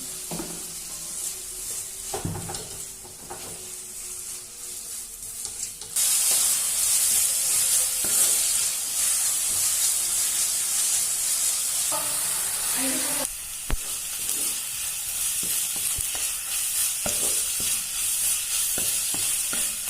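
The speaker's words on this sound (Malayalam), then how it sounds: "സവാള നല്ലവണ്ണം വഴന്ന് വരണം." Sliced onions sautéing in a pan, a steady sizzle that grows louder partway through, broken by occasional stirring scrapes and clinks.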